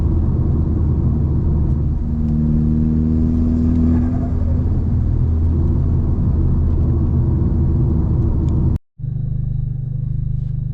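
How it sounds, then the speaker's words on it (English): A VW Golf MK6 R with a turbocharged engine revs loudly outside, a sustained roaring drone that rises and falls, then cuts out abruptly before a lower idle hum returns. "we'll also get some exterior shots of the car and how it sounds outside"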